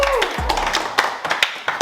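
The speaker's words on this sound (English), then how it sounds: "Round of applause for Shannon." A studio audience claps in short applause for a contestant who won a point wager, a scattering of quick hand claps over a background voice.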